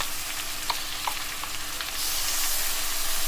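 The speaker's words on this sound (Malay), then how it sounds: "minyak yang lebihan goreng telur tu kita tumiskan bawang" Ground garlic frying in leftover oil from frying eggs, a steady close sizzle that swells louder partway through, with a few faint clinks of stirring and no voices.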